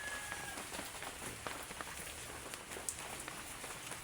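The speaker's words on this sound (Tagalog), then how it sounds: "Umuulan guys." Morning rain falling steadily on a surface outdoors, a dense, even hiss with scattered drips and taps at moderate loudness and no talk over it.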